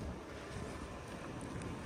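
Wind blows steadily, buffeting the microphone with a constant low rushing roar and no voices.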